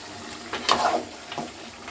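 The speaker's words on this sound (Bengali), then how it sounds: "এবার আমি আবার নাড়িয়ে নিচ্ছি" Meat and potatoes frying in a pan, stirred with a spoon that scrapes twice over a soft, steady sizzle.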